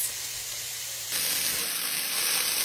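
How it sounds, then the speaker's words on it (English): Carrots and other vegetables simmer in vegetable broth with a bay leaf, giving a steady broad hiss and bubbling sizzle that grows louder partway through, with no talking. "So I will simmer this up for, it's a lot of carrots, so probably about 5 more minutes"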